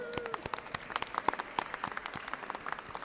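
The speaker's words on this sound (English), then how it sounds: "Can we have a round of applause for that money?" Faint, scattered applause from an audience at a Solar for Schools grant celebration, distinct individual claps spread across a few seconds, somewhat distant and fairly quiet.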